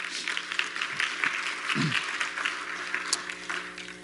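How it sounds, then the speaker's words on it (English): Steady applause from a room full of people clapping, continuous and fairly loud throughout. "give our board a round of applause"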